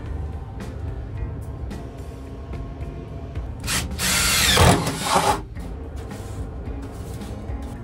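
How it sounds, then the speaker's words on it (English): A power drill whirs loudly for a couple of seconds, grinding through material as it drills holes for propane tank brackets in a van, then stops; quieter handling noises come before and after. "Now we should be able to mark these 2 holes and drill these out."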